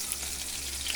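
Ginger sizzling in a pan alongside onion and garlic for sautéed mussels, a brief, even hiss of frying close by, moderately quiet and without talk.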